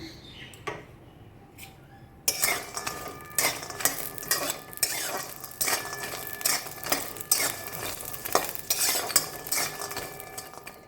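Lentil badi dry-roasting in an open wok, with steady scraping and clinking of a spatula against the metal starting after a quiet opening, loud and close with repeated stirring strokes.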